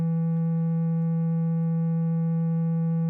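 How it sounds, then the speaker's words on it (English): An Argon8 synthesizer holds a single steady tone shaped by phase-modulation wave mod, a bright buzzy note with even overtones that sustains unchanged at a constant level. "that second one is the phase modulation"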